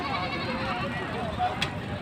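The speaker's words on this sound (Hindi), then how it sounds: "ये बकरी है" A goat bleats amid the bustle of a livestock market in Tando Adam, its calls mixed into steady crowd chatter and voices talking nearby.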